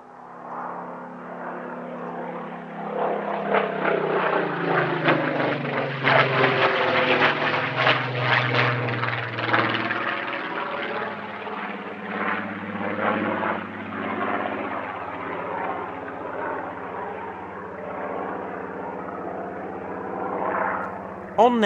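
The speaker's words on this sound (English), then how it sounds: "Last pass coming up, and as you would expect from a Spitfire display," A Spitfire's propeller engine roars through a victory roll display pass at the East Kirkby airshow, rising and falling in pitch as it sweeps by, loud and continuous for about twenty seconds before fading slightly.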